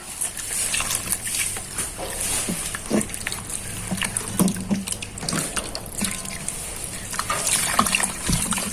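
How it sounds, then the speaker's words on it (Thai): Snow lotus root (yacon) being rinsed under running tap water: a steady close splashing trickle with small irregular bumps as the tubers are handled, and no talk. "เอาหัวบัวหิมะไปล้างน้ำก่อน"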